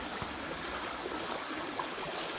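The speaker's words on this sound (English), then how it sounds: "Lovely little babbling brook" A small babbling brook flowing through a slippery English forest, a steady close trickle and gurgle of water with no voices.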